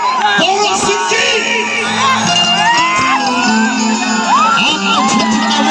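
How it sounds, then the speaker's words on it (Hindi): A loud crowd cheers, whoops and shouts to welcome a singer on stage, with dense overlapping voices and yells filling the whole stretch and no pause. "आप दोनों हाथ उठाकर तालियों का एक जोरदार"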